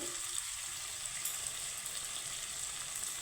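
Garlic and onion frying lightly in a pan, giving a steady soft hiss of fine crackling throughout, fairly quiet and even, with no voices.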